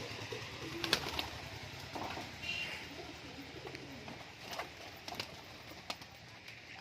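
Pigeons coo softly now and then among desi Giribaz pigeons perched on a wire, with faint clicks and a low outdoor background and no speech.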